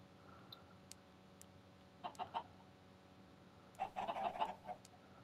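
Chickens clucking in Minecraft, two short bursts of rapid clucks and squawks a couple of seconds apart over a faint steady background hum, without any speech.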